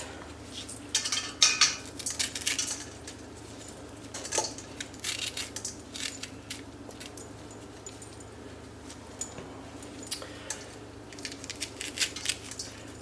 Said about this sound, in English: I just take a spoon and clean out my jalapenos like that.